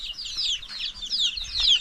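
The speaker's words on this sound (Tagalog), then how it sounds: "Yung mga alaga nating manok mga kaprobinsya, dumami na po sila." Chickens on a rural farm, with chicks present, give repeated high-pitched calls and clucks at close range, overlapping in short bursts alongside some wing flapping.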